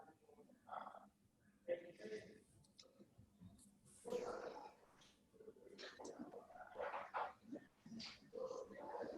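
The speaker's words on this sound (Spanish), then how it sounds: "¿Escuchan a mi perro?" A pet dog barks and yips repeatedly at moderate distance, short sharp calls scattered irregularly under faint background voices and clicking noise.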